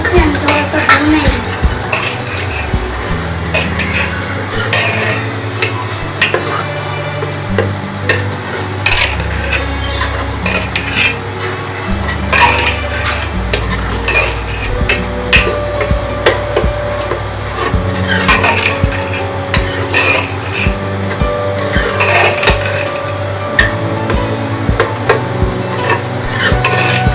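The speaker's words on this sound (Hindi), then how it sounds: "सफेद मसर हमने इसमें डाल दिए हैं। इसे हम थोड़ा सा भूनेंगे।" White masoor lentils are stirred and dry-roasted in a pan. A utensil scrapes and rasps steadily against the pan over a continuous low hum, with frequent small clinks and no talking.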